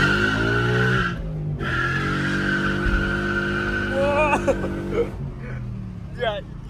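A Ford Mustang loses traction and skids, its tires squealing in short, wavering bursts over a loud, steady engine drone, with voices around the car.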